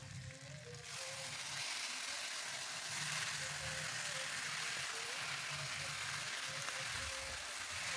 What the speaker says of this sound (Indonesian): ini kita tumis sampai kulit ayamnya itu berwarna kecoklatan